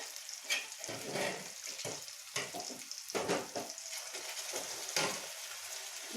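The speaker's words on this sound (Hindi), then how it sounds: "तो अब मैं इसको कुकर से कढ़ाई में ट्रांसफ़र कर दे रही हूँ।" Cooked, mashed dal with green pumpkin is poured from a pressure cooker into a hot kadhai, giving a spreading sizzle and frying hiss with uneven bursts as the pour lands.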